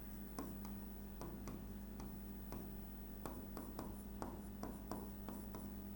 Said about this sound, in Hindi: एक पॉइंट और लिखेंगे हम।